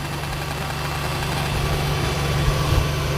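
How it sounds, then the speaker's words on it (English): A Lexus IS300 engine starts and rumbles at a steady idle, low and close, with a few heavier knocks toward the end. "So I'm gonna start the engine, let it run"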